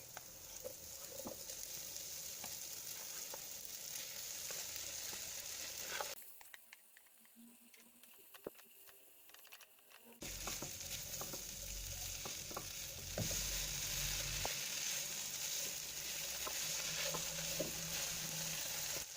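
Marinated pork frying in a pan with turmeric, a steady close sizzle and occasional stirring scrapes that drop out briefly in the middle, then return louder and fuller.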